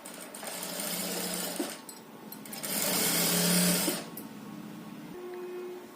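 Sewing machine stitching the waistband fold of a plain net skirt lining, running in two bursts with a short pause between them, each a steady close mechanical whir that speeds up in the second burst and then eases down.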